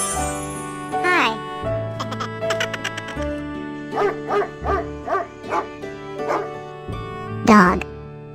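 A dog barks in several short yips and woofs over light children's music with a kid's voice, probably a voice or cartoon imitation, on a farm-animal theme; loud bursts near the start and end with smaller ones between.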